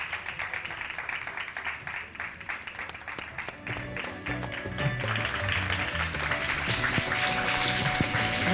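Applause from a studio audience at a live Ramadan iftar television broadcast, a dense, steady clapping texture that swells and holds for the whole stretch, with a few voices mixed into the crowd.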